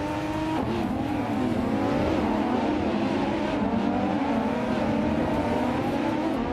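Race cars in a video game, 2019 IPS Kuruma models, drone along together in a pack with steady, overlapping engine whine that rises and falls in pitch, loud and continuous throughout.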